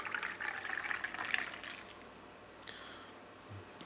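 Guinness Draught stout pouring from a bottle into a glass, a bright splashing, gurgling stream for about a second and a half that then thins to a quiet fizz, with a faint clink near the end.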